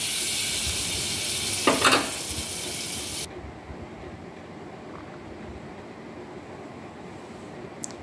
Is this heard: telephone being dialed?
no